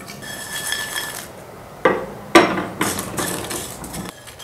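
Whole coriander seeds, kalonji and round dried chillies being dry-roasted in a pan with no oil, giving scattered clinks and scraping knocks of metal against the pan, loud in a few brief bursts.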